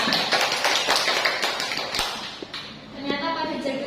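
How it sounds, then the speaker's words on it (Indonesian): A classroom of students claps their hands during a maths lesson, a burst of quick, uneven claps fading toward the end, with a voice speaking over it. "beri tepuk tangan untuk kita semua."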